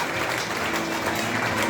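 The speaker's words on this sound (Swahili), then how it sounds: "Jamani, nipigie makofi wa kalimani wangu." A congregation at a church sermon claps together, a dense, even patter of applause that fills the room at fairly loud level for the whole stretch.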